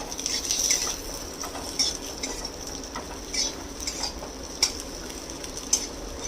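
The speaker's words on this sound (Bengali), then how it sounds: "এক মুঠ কাজু বাদাম এক মুঠ কিশমিশ এটা হালকা করে একটু ফ্রাই করে নেবো" Cashew nuts and raisins lightly frying in a pan for pineapple chutney, a soft steady sizzle with occasional metallic clinks of a spoon stirring.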